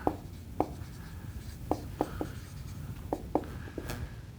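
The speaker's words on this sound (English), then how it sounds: "I'll write that out." A pen writes a measurement out by hand, producing quiet, close scratchy strokes and light taps in an irregular rhythm, with no talking.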